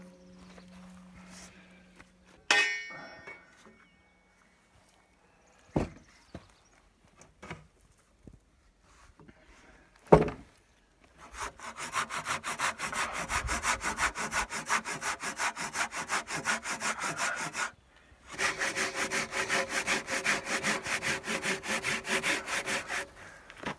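A handsaw cuts through timber in a joinery workshop, preceded by scattered knocks and handling bumps, then long runs of steady rhythmic rasping strokes with a short pause between, close and fairly loud.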